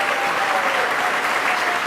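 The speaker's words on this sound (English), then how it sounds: "Let's give a round of applause for Hamburg." An audience at a state budget event in New York claps together in a dense, steady round of applause, loud and continuous without a break.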